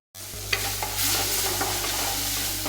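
Tomatoes and onions sauté in a pan for a Kerala fish curry, a steady close sizzle with occasional stirring scrapes and no voices.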